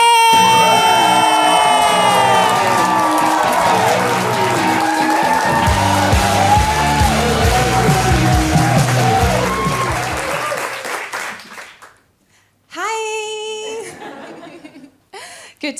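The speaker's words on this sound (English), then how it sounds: "please make some noise, clap your hands, stomp your feet" Comedy club audience cheering, whooping and clapping loudly for an arriving act, a dense burst of applause and shouts that fades out near the end before a voice begins talking.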